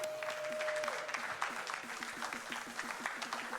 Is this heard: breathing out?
no